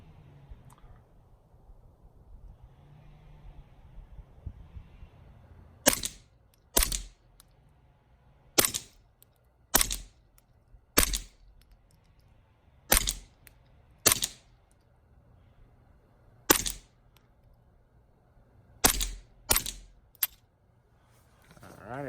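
Ruger Charger rifle, a 10/22-style pistol fitted with brace and chassis, firing about eleven sharp shots at targets, spaced irregularly and loud against quiet outdoor background.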